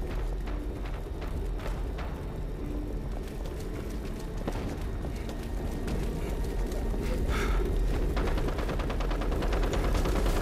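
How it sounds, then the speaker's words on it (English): Players shooting in Fallout 76's Nuclear Winter mode: scattered, faint gunshots crack at a distance over a low steady hum, then thicken into quicker bursts of rapid fire toward the end. "People are nearby shooting somebody."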